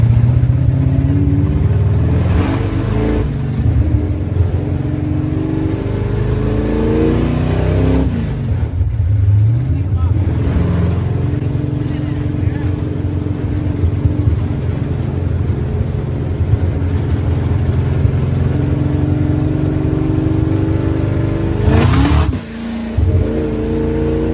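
A supercharged 1956 Chevy on the road, its engine loud and close, rising and falling through revs as it accelerates and shifts, with a brief dip near the end.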